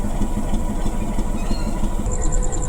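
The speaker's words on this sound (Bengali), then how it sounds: "এই ট্রেনটি এখন ঢাকার উদ্দেশ্যে ছেড়ে যাবে অগ্নিবীণা জামালপুর হতে।" Agnibina passenger train standing at Jamalpur station, a loud continuous rumble of engine and cars with a steady low drone and faint rhythmic clatter throughout.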